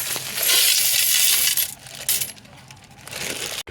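A pile of about thirty dollars' worth of loose coins is handled and sifted, giving dense metallic clinking and jingling that is loud at first, then thins into scattered clinks.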